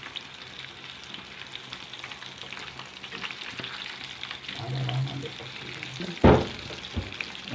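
Fish frying in hot oil in a home kitchen, a soft continuous sizzle and bubbling, with a sudden louder crackle and splash as a piece is turned over near the end.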